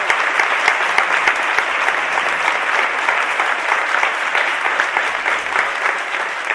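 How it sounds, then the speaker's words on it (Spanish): Sustained, dense audience applause fills a hall at a political gathering in Marbella, steady and loud throughout with no speech over it. "Un aplauso para él, por favor"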